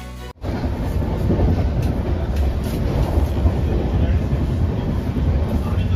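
Inside the moving Digha-Puri Samudrakanya Express, a loud, steady low rumble of the carriage on the rails with faint rhythmic clatter, running continuously after a brief cut near the start.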